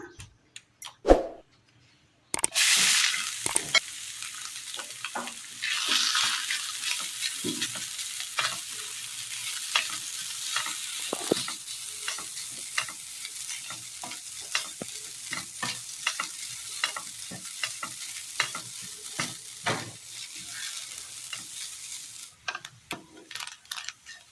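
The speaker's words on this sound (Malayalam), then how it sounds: "എണ്ണയിലേക്ക് തേങ്ങ ഇട്ട് കൊടുക്കാം." Grated coconut sizzles loudly in hot oil in a pan for a Kerala curry, with steady frying hiss throughout and frequent scraping, clinking spatula strokes as it is stirred, close and continuous.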